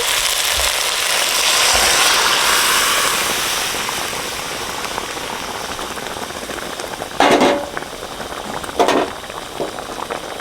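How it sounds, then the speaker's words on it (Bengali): Boiled lentils are added to a pan where catla fish head is cooking, giving a steady bubbling, sizzling hiss with a few short louder splashes and clatters near the end, and no talking. "সেদ্ধ করা ডালটা দিয়ে দিচ্ছি"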